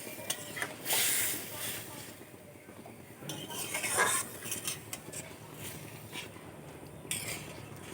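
A spoon stirs fish-head moong dal in a metal pot, with soft scraping, light clinks against the rim and a faint bubbling simmer. The sounds come close and intermittent, with a brief louder clatter near the start.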